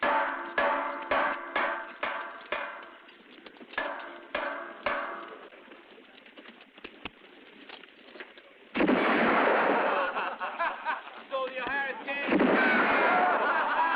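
Gunfire in a wartime film scene, with a string of sharp, evenly spaced shots followed by a denser, louder stretch of firing and blasts, close and harsh, mixed with bits of voices.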